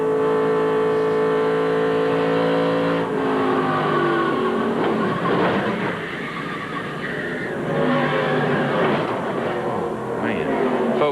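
Roaring NASCAR Busch Grand National race car heard from an in-car camera at Dover, engine droning steadily with pitch shifts as it scrubs and strikes the walls, loud and close throughout with no speech.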